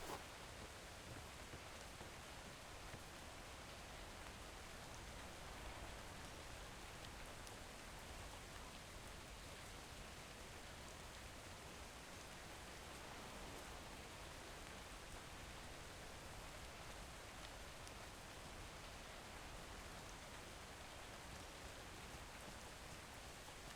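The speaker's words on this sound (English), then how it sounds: "It gets a lot colder when it's raining." Steady rainfall in the survival game ATLAS, a dense, even hiss of drops that runs unbroken throughout without any voices.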